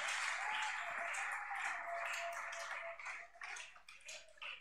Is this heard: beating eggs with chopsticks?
no